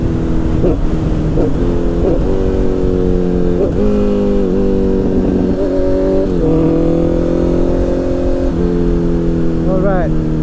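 Honda CBR 650R motorcycle engine revving up and down through gear shifts, its rising and falling engine tone loud and steady throughout, with brief dips between gears.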